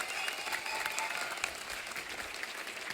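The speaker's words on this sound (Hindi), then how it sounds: "जोरदार तालियां सबके लिए" A studio audience on a Hindi TV talk show applauds its guests with steady, sustained clapping from a full crowd, fairly soft and even throughout with no talk over it.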